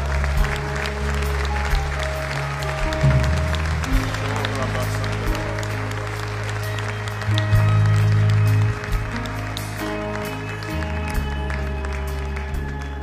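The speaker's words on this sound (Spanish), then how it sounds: "denle ese fuerte aplauso al Señor en esta mañana" Sustained clapping from a church congregation at a Spanish-language Sunday morning service, spread evenly through the room beneath held low keyboard chords, continuing without pause.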